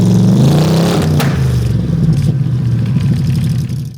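Roadster fitted with polished stainless steel side exhaust pipes revs up loudly close by, the engine pitch rising and then settling into a throbbing burble before cutting off, with no voices.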